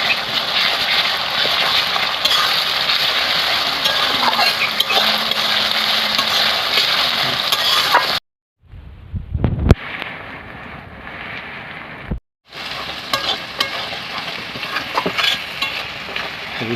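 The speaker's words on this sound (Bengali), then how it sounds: "রসুনটা ভেজে নিয়ে একটু।" Chopped garlic sizzles in hot oil with onions already browned in the pan, a steady loud frying hiss broken midway by a short gap with a few clatters before the sizzle resumes.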